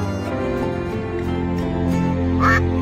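A cartoon duckling quacks with a short, nasal call near the end, heard over a continuous musical score and faint voiced sounds in an animated fairy tale.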